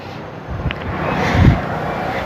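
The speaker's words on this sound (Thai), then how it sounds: "แต่ก็มีลมพัดเย็น ๆ ค่ะบรรยากาศดีมากเลยค่ะ" Cool breeze blowing outdoors around a traditional Thai wooden house, a steady broadband rush of wind with a slight gust swelling near the middle, continuous and fairly close to the microphone.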